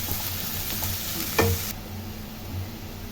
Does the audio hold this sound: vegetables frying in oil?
yes